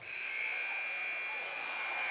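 A long, steady electronic buzzer sounds at the end of a quarter in a varsity high school basketball game in a gym, continuous and moderately loud.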